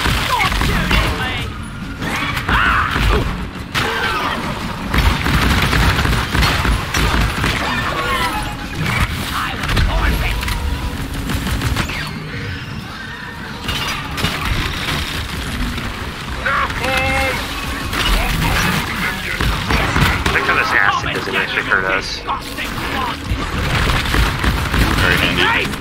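Gunfire and booming explosions from the co-op mining shooter Deep Rock Galactic, rattling in dense bursts across the stretch while players talk over the chaos.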